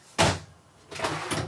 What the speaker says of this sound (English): And an actual drawer in the trailer.